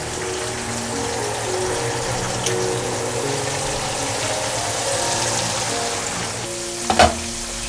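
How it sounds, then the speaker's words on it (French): Fish tails fry in hot oil for alloco, a steady close sizzle with scattered crackles and a louder pop or two near the end, no talking. "Allons commencer par les queues de poisson parce que les têtes là, ça pète trop dans l'huile."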